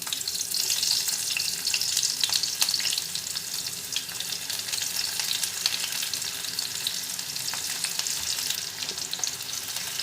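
Onion sautés in oil already seasoned with spluttered cumin and mustard seeds, a continuous close sizzle with crackling pops and occasional stirring, no speech.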